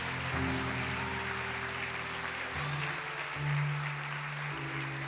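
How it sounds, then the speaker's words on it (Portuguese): A church congregation claps amid a worship service, broad clapping noise under sustained organ or keyboard chords that shift pitch, moderately loud and continuous. "Dê uma linda salva de palmas para Jesus"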